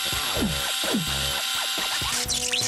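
An electric drill whirs in short bursts with rising and falling pitch, loud and close, the motor revving up and stopping several times in quick succession.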